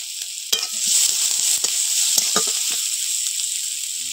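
Square-cut diced onions hit hot mustard oil with whole cumin seeds, setting off a steady close hiss and sizzle with repeated spoon scrapes and stirring clicks against the pan.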